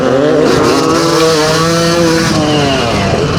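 Vintage motocross bikes, a Yamaha 250 YZ and a Honda 500 CR, race on a dry downhill course. Their engines roar loud and close, with revs climbing and falling continuously.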